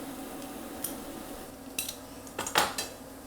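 Garlic crushed into a pan with a spoon while making mushroom bolognese ragu gives a few soft metallic clinks and scrapes over a low room hum, close and faint.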